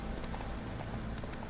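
A horse gallops in The Witcher 3 video game, its rapid hoofbeats clattering continuously and close over ambient game sound in a brief burst.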